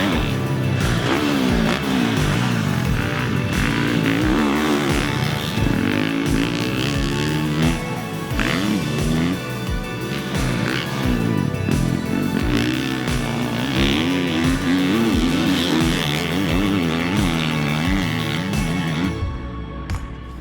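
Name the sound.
KTM 350 SX-F motorcycle engine revving to the limiter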